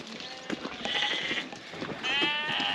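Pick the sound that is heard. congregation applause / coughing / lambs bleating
lambs bleating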